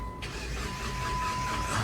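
A 2015 Jeep Patriot with a no-start fault cranks steadily without catching, a continuous mechanical churn with a faint steady whine running alongside it.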